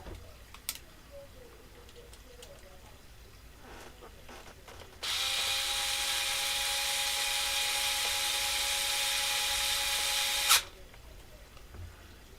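A power drill drives screws, likely into wood on a build with very large wheels, running as one loud, steady whine for about five seconds with a sharp burst as it stops.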